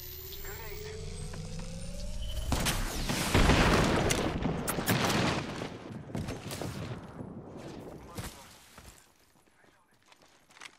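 A grenade explosion in Apex Legends, a sudden loud boom that rolls into a long rumbling burst with crackling debris, then fades over several seconds, with game sounds and voices around it.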